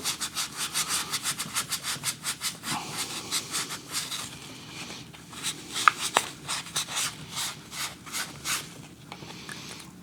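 Sandpaper rubs back and forth on a vintage tobacco pipe to strip oxidation, a close, rhythmic rasping in quick even strokes that briefly pauses then resumes, with no talking.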